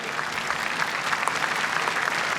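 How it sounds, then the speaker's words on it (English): A large audience applauds at the Willie Mays Celebration of Life ceremony, steady dense clapping from many people, even in level and carrying on without pause. "I appreciate the applause"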